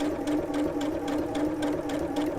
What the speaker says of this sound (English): it's easier to sew a curve with a small stitch and get it accurate